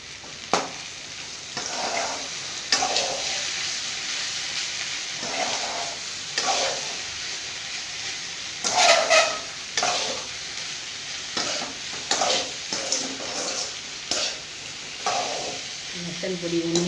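Okra frying in a pan with chilli powder and salt, stirred in a series of scraping strokes over a continuous sizzle, while someone talks throughout.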